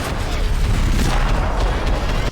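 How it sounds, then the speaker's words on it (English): Gunfire in the video game Max Payne 3, a loud, dense roar of booming shots and impacts that runs continuously without a break for about two seconds. "the rounds each gun fires are modeled individually"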